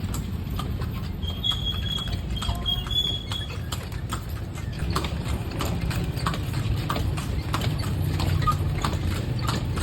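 A horse pulling a kalesa through Vigan clip-clops at a steady trot, its hoofbeats sounding close over a constant low rumble of wheels and street noise.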